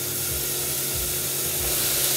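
Chunks of beef chuck sear in a hot Dutch oven with a steady, loud hiss and sizzle. The sound is close and continuous, with faint low knocks of the meat shifting against the pot.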